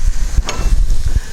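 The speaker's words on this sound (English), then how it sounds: "So right now you see the stir fry." Pineapple fried rice with curry powder being stir-fried in a pan, giving a steady close sizzle broken by soft scraping and stirring thumps, with no talking.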